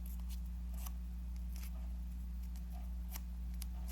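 Faint scissors snip through paper being cut in half for origami, a few soft, brief cuts spaced out over a constant low electrical hum.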